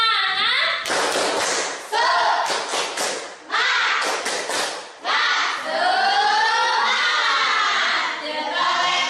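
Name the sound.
class doing a rhythmic 'spirit clap' cheer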